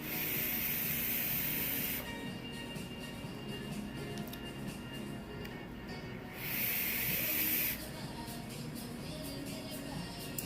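A squonk mod vape's coil fires in two long hissing, crackling draws, each a couple of seconds, close and steady, separated by a quieter stretch of soft background crackle.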